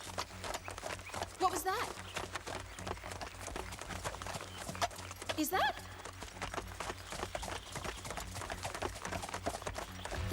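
Cartoon horse hooves clip-clopping in a steady walking rhythm, fairly faint, with voices talking over the hoofbeats.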